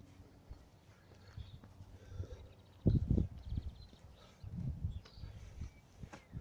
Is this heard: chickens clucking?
no